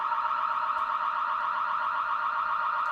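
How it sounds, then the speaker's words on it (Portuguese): A building alarm sounds continuously in a steady, unbroken electronic tone, moderately loud indoors with no talk over it. "O pessoal escuta o alarme aqui?"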